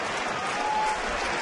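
Baseball fans applaud at Target Field during a Twins game against Colorado, a steady wash of distant clapping and crowd noise spread across the ballpark.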